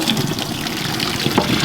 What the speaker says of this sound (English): Potatoes are ready to drain.